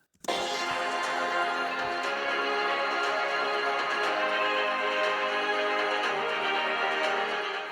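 Steady, loud music playing continuously through Razer Blade 16 laptop speakers at 80% volume, full and dense with no pauses or talking.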